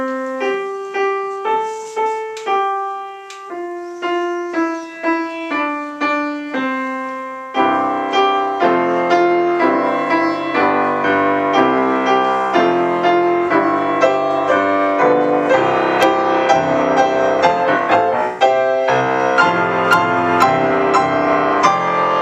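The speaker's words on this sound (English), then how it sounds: "So there we are, so that's the sound of the piano." Solo piano plays Twinkle Twinkle Little Star, starting with soft single notes, then swelling into fuller, louder chords and runs.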